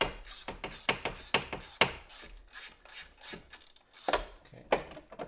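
Ratchet loosening a bolt on the ignition coil of a MK4 VW Jetta/Golf/Beetle 2.0 engine: rapid, uneven clicking and rasping strokes, close and fairly quiet, in quick repeated bursts.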